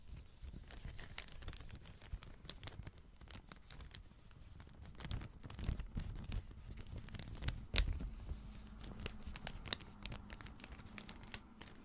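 A plastic wrapper is crinkled and crumpled softly and close up, with irregular crackling bursts and small sharp pops over a quiet background.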